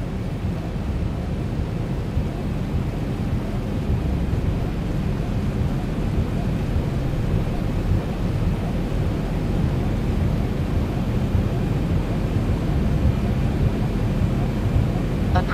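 A Boeing 737-800 lands at Odesa International Airport, giving a steady, continuous roar of engine and airflow noise that stays even in level throughout, with no voices.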